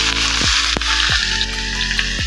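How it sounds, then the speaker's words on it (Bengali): Potatoes and jackfruit frying in a pan, a loud continuous sizzle close by, broken by a few quick stirring scrapes. "আলুগুলো লাল লাল করে আলুগুলো ভেজে নিলাম এবার এঁচুরগুলোকে দিয়ে দিলাম"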